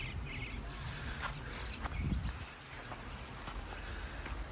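Small birds chirp in snowy Switzerland, faint high tweets scattered through a steady outdoor background of wind and distant rumble, with a brief soft thud partway through.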